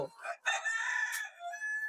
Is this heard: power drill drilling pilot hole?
no